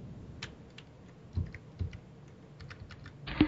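Typing on a computer keyboard, with scattered individual key clicks and a few heavier thumps, ending in a quick burst of keystrokes, close and clear with no talking.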